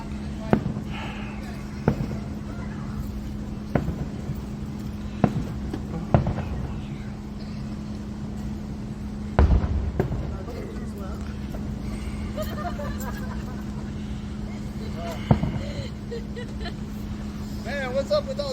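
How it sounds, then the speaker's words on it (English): Fireworks bursting outdoors at night after a thunderstorm, scattered sharp booms every few seconds, some louder and nearer, under a steady background hum with occasional voices. "Guess they still decided to do fireworks."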